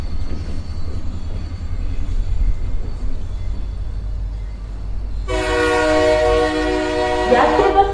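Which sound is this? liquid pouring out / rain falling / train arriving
train arriving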